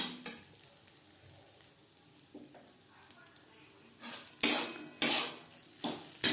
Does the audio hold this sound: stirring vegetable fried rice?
yes